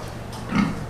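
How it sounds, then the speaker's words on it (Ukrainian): Calm sow on a pig farm giving a single short, low grunt, close up, over a steady background hum. "Сама свинка спокійна."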